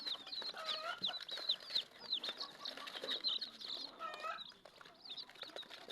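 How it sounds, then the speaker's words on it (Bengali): Small chicks cluck and peep while eating outdoors in the morning sun, a busy stream of high chirps with rustling and light wing flutters, fairly faint and close. "ছোট ছোট মুরগির বাচ্চাগুলো কত সুন্দর করে খাচ্ছে।"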